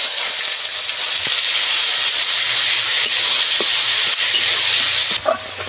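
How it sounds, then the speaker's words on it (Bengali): Onion paste fries in hot oil over whole garam masala, dried chillies and bay leaves, giving a loud, steady, close hiss with a faint knock near the end. "পেঁয়াজটা আমি কিছুক্ষণ ভেজে নেব"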